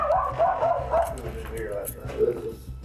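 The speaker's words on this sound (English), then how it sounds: "Little dog is in the kitchen." A small dog barks and yips indoors near a kitchen, several short sharp barks in a quick irregular run at moderate loudness, mixed in with people talking nearby.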